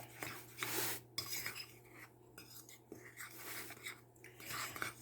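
Bath bomb mixture is stirred in a bowl with a utensil, producing soft scraping, gritty rubbing and light clinks, close and quiet, in uneven strokes that come and go.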